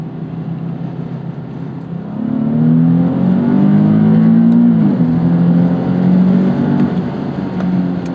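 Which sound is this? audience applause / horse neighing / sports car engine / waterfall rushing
sports car engine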